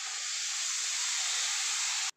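Coconut milk pours into a hot egg masala pan with a steady, loud hissing sizzle that cuts off abruptly after about two seconds.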